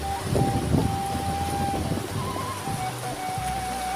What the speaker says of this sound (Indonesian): ini kali airnya lumayan deras ya